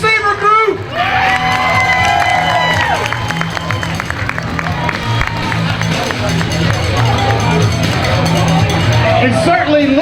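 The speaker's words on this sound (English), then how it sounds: "Nice round of applause for our wide receiver group." Crowd at a football event cheering and clapping in a steady, loud roar, with a voice over a public address system talking above the noise and shouts rising through it.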